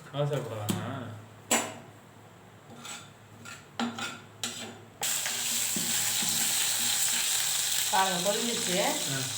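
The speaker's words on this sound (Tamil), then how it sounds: "பொரியட்டும்" Cumin and other seasonings frying in hot oil for ragi kali, a finger millet dish. A voice talks over scattered clinks at first, then a loud, dense, steady sizzle takes over close up for the rest.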